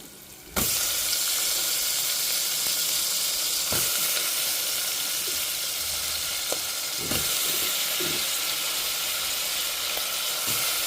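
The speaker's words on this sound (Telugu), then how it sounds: "ఇప్పుడు ఆలుగడ్డ ముక్కలు వేసేస్తున్నాను నేను" Potato pieces drop into a hot pan and set off a sudden loud burst of sizzling that carries on strongly for several seconds, with a few soft knocks, close and free of speech.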